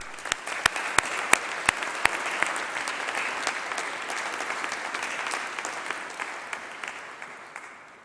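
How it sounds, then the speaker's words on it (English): Graduation ceremony audience at a winter congregation breaking into sustained applause, dense clapping from a large crowd with a few louder individual claps near the start, steady and then gently fading. "Graduands, let's give those people a round of applause and a massive cheer"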